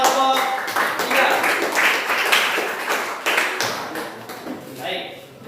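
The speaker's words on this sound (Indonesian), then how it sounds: "berikan aplaus untuk kelompok 3" Applause from a classroom group for the third group after their biology presentation, a dense patter of clapping hands filling the room, close and fairly loud, tapering near the end, with a voice briefly audible over it.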